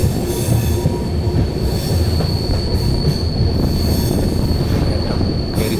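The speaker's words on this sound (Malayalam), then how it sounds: "അത്യാവശ്യം ട്രെയിൻ വളരെ പതുക്കെയാണ് പോകുന്നത്." A train hauled by two locomotives crawls slowly up a steep mountain ghat section near Edamon and Bhagavathipuram, its wheels squealing steadily over a constant low rumble of rolling cars, loud and continuous throughout.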